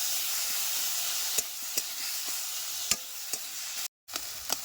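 Meat masala with tomato, salt and turmeric sautéed in a pan, a steady close sizzle and hiss with a few sharp scraping stir clicks and one brief silent gap.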